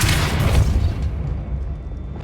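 A Depulso force-push spell blast in Hogwarts Legacy, one deep booming burst that swells at once and fades away over about two seconds.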